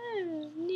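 A single drawn-out meow from a house cat, close and fairly loud, its pitch sliding down and then levelling off, with no voices over it.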